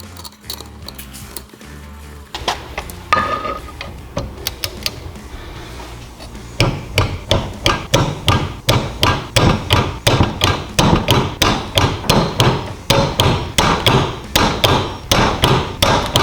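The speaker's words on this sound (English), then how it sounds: "With the handle of a hammer, tap the piston into the block" A piston being tapped into the block of a Predator 224cc small engine with a hammer handle, a run of sharp, evenly spaced knocks close up, sparse at first and then a quick steady rhythm, with no talking.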